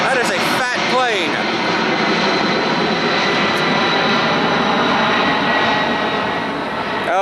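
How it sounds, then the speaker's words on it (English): A large military airplane flies low overhead, its loud, continuous engine roar filling the whole stretch and swelling slightly as it passes. "That's a military plane."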